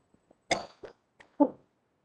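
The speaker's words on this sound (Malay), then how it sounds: "Kita batuk pula." Several sharp coughs in quick succession, close up, with a short pause before a final louder cough, in an otherwise quiet room.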